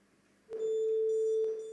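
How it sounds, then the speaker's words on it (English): A quiz contest buzzer gives one steady electronic beep at a school quiz competition. The tone is held for just over a second, loud and clean, with nobody talking over it. "the sound of your buzzer."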